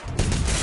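A short, loud burst of gunfire in the action video game Remember Me, heard close and sharp, with a dense blast that rings out over the game's ambient background.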